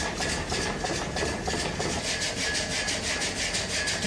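An old water-powered sawmill in the Laverq valley of France drives its saw carriage through a log. Rapid, rhythmic rasping strokes repeat continuously over a steady mechanical drone, close and fairly loud.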